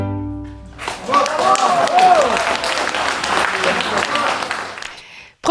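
Warm audience applause after a string quartet's performance of a chamber music masterpiece, a full burst of many hands that rises quickly, holds strong for several seconds and then cuts off, with some crowd voices mixed in.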